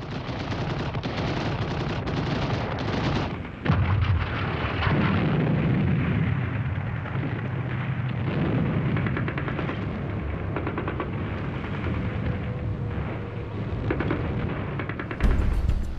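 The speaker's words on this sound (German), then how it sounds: "Entsprechend nervös sind die US-Soldaten und schießen auf alles, was sich bewegt." Sustained bursts of machine-gun and rifle fire from US soldiers in urban house-to-house combat, dense and rattling throughout, with heavier booms and a sharp blast near the end.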